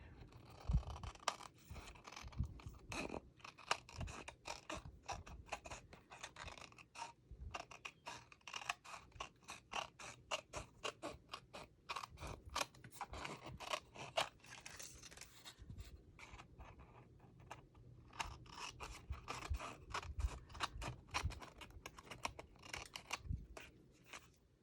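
Scissors snip through a cup held by hand in quick, irregular crisp cuts with scraping between them, close but quiet, steady throughout with no talk.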